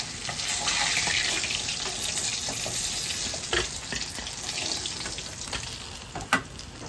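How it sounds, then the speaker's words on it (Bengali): Fish frying in hot oil, a continuous bright crackling sizzle close by, with a few scrapes and clicks of a utensil as pieces are lifted from the pan. "মাছটা উঠিয়ে নিচ্ছি আমি, ভাজা হয়ে গেছে।"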